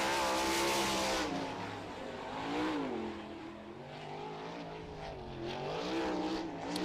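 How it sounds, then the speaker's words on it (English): Sprint race car running a qualifying lap at Wilmot, a loud, continuous engine roar that rises and falls as the car swings through the turns, with no voices. "Car number 1 coming to us out of Lubbock, Texas"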